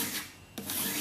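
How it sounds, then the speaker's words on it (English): Two quick rasping strokes of a single cut file drawn along a sheet metal edge to deburr it, close and fairly quiet, with no voices. "or use the file, a single cut file, to draw"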